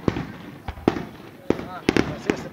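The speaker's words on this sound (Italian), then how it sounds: "Sono i fuochi d'artificio, ragazzi. Spettacolo pirotecnico." Fireworks bursting at a Ferragosto night show at a beach club, a series of sharp booms and crackles spaced irregularly over a couple of seconds, with crowd voices and talk underneath.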